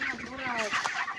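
Chickens cluck at a poultry farm in a coconut grove, a close, brief burst of several overlapping clucks and squawks with no talk.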